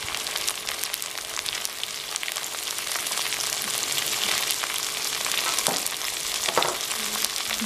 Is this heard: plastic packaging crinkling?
no